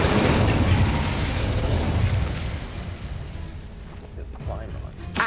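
A fiery burst from the Incendio spell in Hogwarts Legacy, a loud whooshing blast that swells at once and then fades out over several seconds, with no voices.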